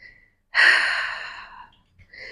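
A strong, breathy exhale during a Pilates side leg lift, swelling loudly then tapering over about a second, close and clear, followed by a short quieter breath.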